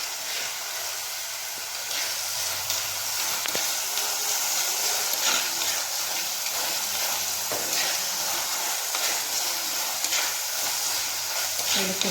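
Shallots and curry leaves frying in a hot pan for a Kerala boti curry keep up a steady sizzle while a utensil stirs and scrapes now and then, close and continuous with no talk.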